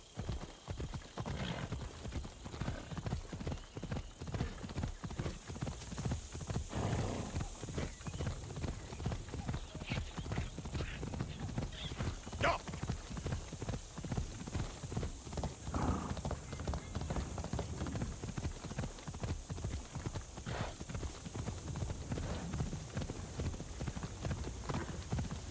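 Horse hooves clip-clopping in the Assassin's Creed Shadows video game: a continuous, even clatter of hoofbeats at a steady trot, close and prominent, with an occasional soft whinny.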